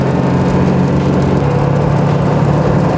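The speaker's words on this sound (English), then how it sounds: "That's about full throttle right there." A 7.3L Powerstroke diesel engine held at full throttle, loud and close, with a steady, dense, low roar that does not let up.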